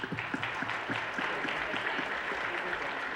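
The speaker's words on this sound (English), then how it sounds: "so a big applause for them." An audience at an employment-opportunities seminar in Mexico City claps steadily for a few seconds, a dense patter of many hands at moderate volume without pause.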